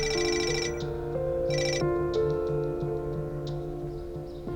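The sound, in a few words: telephone ringing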